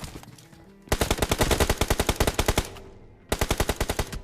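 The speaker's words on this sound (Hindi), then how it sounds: "अब इसको तो बड़े ही खतरनाक बस्ट के साथ में नॉक फिनिश कर दिया" Automatic gunfire in the mobile battle royale game BGMI, a long rapid burst of loud evenly spaced shots, a brief pause, then a second shorter burst, with no voices.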